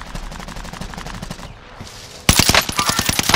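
Rapid automatic gunfire in Call of Duty: Modern Warfare, with distant bursts at first, then a loud, close stream of shots after a brief lull.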